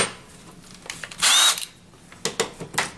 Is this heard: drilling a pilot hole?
yes